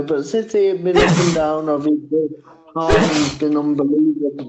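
A person sneezes twice during a football podcast conversation, two loud bursts that break into someone's speech, close to the microphone.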